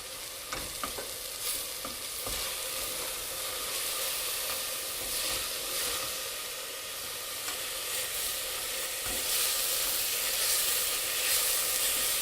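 Garlic, dried chilies, fenugreek and coriander fry and sizzle steadily in a pan, a continuous close hiss with occasional stirring scrapes and clicks, no voices.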